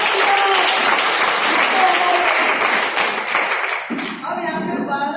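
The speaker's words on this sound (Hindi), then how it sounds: "इसके लिए ताली एक बार छोटा सा" Applause from a seated audience at a business income presentation, a dense steady wash of clapping that fades slightly toward the end as a voice begins speaking.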